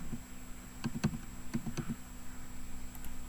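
Keys tap on a computer keyboard, a short cluster of crisp clicks ending on an Enter press, close and fairly quiet against a faint background hum, no talk.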